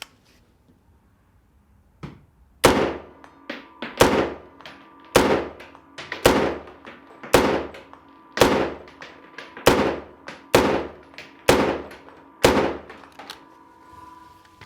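Semi-automatic shots from an AR-15 rifle ring out one after another, about eleven sharp, loud reports fired at a steady pace with a short decay after each, outdoors and with no talking.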